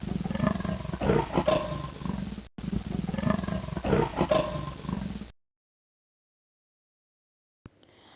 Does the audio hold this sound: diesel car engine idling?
no